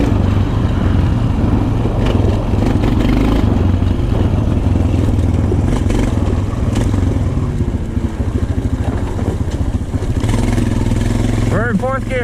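A Honda TRX450 ATV ridden hard through snow, its engine a loud, close, continuous roar that rises and holds through gear changes, with rattling from the machine running underneath.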